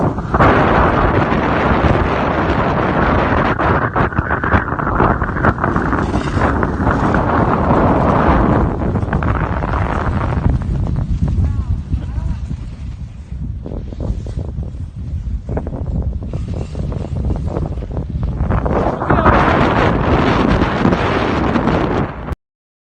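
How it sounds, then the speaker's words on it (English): Strong gusting wind roars across the microphone throughout at Lake Tahoe, with faint scraping of skis on snow beneath it, easing midway and then rising again. "the sound you're hearing is the wind and a little bit of our skis scratching"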